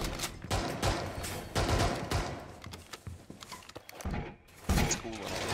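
Gunfire in Rainbow Six Siege on the Villa map shoots through a window, with bursts of rapid shots and shattering impacts spread across the clip, loud then fading, over a faint murmur of voices.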